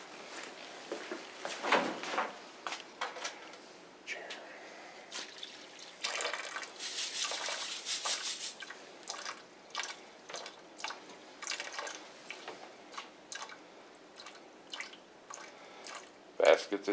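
Water drips and trickles from the overflow valve of a weighing tank during a coarse aggregate specific gravity test, with irregular close splashes and patters and a voice faintly present in the background.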